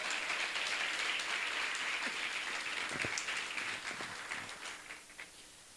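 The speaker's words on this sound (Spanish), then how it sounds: "Dele otro aplauso al Señor en esta hora," A church congregation applauds during a sermon, with dense, steady clapping that carries on loudly and then gradually fades toward the end, with no talking over it.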